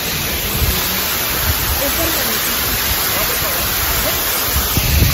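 A waterfall roars in light rain on the Kedarnath trek, a constant loud broadband rush with faint patter and occasional low bumps, recorded close to the water.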